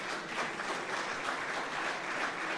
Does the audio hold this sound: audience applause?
yes